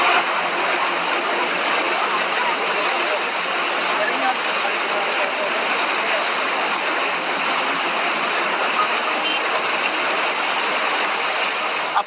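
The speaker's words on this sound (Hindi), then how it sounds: "अब सुनिए पानी के आवेग से आते शोर।" Loud, constant roar of rushing floodwater after record rainfall in Himachal Pradesh, a dense, unbroken torrent that stays at full strength from start to finish.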